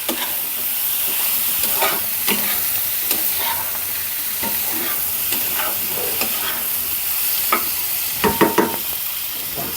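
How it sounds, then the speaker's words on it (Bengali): Steady oil sizzle of fish and potatoes frying in a wok, with repeated scraping and clinking from stirring throughout and a few sharper metallic taps near the end. "এখন মাছ আলুর সঙ্গে কষিয়ে এনে তারপর সবজিটা দিয়ে দেবো"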